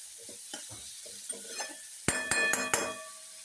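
Slit green chilies, tomato and sliced onion frying in a pan, stirred with soft scraping strokes, then several bright metallic clinks of spoon against pan over a light sizzle.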